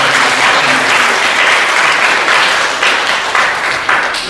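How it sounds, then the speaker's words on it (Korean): A church congregation claps continuously, a dense, steady round of applause from many people filling the room. "말씀 주신 앞으로 우리 박수로 감사드립니다."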